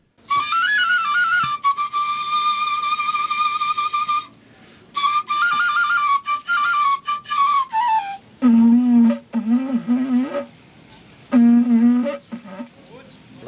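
A shrill wooden shepherd's flute, a Romanian fluier, plays a traditional melody in sustained phrases, followed by a voice over the shorter notes that follow.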